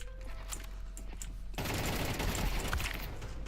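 Rapid automatic rifle fire in Counter-Strike 2, a dense continuous burst of shots that swells into louder, sustained firing partway through, with no talk over it.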